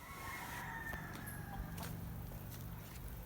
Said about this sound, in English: So we are sharing the path with a chicken, which is fine.